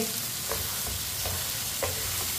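Potatoes and meat stirred and cooked together in a pot for aloo gosht, with steady sizzling and several soft scraping stir strokes close up, no talking.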